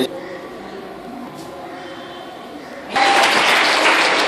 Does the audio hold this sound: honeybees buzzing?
no